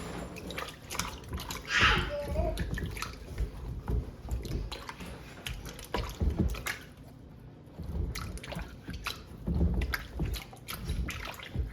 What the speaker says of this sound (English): we're going to wash our pumpkins in some water, just get all the dirt off so they're somewhat clean